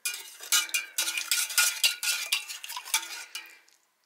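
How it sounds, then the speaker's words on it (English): A spoon stirs sugar into a drink, a quick series of bright metallic clinks and scrapes against the cup, close and clear with no talking. "Let's give that a stir."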